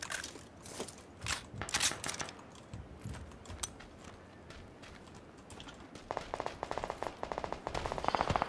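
Gunfire in the PUBG video game, with scattered sharp cracks early and then bursts of rapid rattling shots toward the end, close and fairly loud, no talking.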